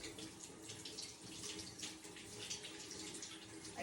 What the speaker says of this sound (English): I'm gonna give these a quick rinse because I'm gonna need them for our frosting.